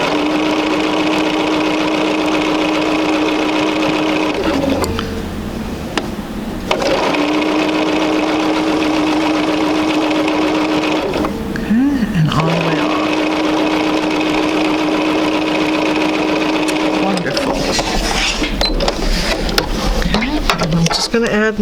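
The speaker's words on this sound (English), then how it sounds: "We're going to sew all our rows together." A sewing machine stitches quilt rows together in long, steady whirring runs broken by short pauses and handling clatter between seams.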